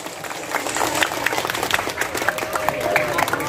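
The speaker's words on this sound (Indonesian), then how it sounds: "Berikan tepuk tangan untuk para panitia di Kampung Muli." An audience claps for the organizing committee at an Isra Mi'raj commemoration in a village. The applause is steady and fairly close, with faint crowd voices mixed in.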